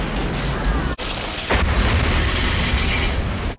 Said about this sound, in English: Just blowing up everything.